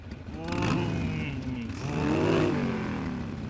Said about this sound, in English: this is your standard motorcycle exhaust